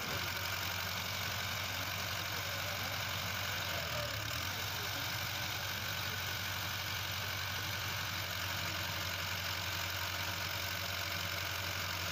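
A tubewell boring machine engine runs steadily at a low idle while drilling rods are pulled out of a bore about 27 rods deep, its constant hum continuing alone throughout with a brief dip midway.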